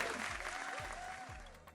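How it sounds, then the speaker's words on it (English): Faint, steady round of applause during the grand finale of a gothic chic model competition show, a brief wash of clapping that holds at a low, even level. "let me give a round of applause"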